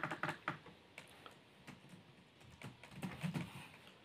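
Quiet typing on a computer keyboard: short bursts of light key clicks with brief pauses, close and faint, with no voices.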